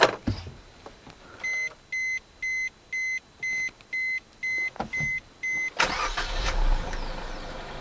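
Inside a 2022 Suzuki Swift Sport Hybrid, a run of about ten evenly spaced chime beeps is followed by the engine firing up with a loud, rough surge of noise close by.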